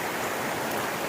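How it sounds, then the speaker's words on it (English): Close, steady rushing of a mountain stream on the 100 Mile Wilderness stretch of the Appalachian Trail, a dense, uninterrupted wash of flowing water. "another successful ford across this awesome stream"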